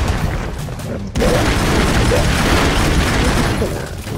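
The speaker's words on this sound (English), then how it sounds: "Okay, we're gonna pop another grenade." Grenade blasts in the Broforce video game, with a sudden loud boom cutting in after a quieter stretch and then a dense, sustained roar of explosive noise, with faint voice fragments underneath.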